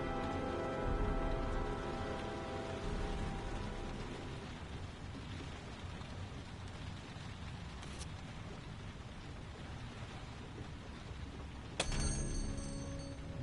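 Rain in the video game Heavy Rain falls as a steady soft hiss with low rumbling underneath, fading slightly partway through, then a sharp crackle near the end.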